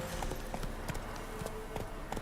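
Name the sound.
horse Roach galloping in video game The Witcher 3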